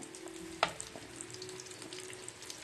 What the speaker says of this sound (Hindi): अब इसमें हम ये सब्जी डाल देंगे। मीडियम फ्लेम पे हमने इसको फ्राई करना है।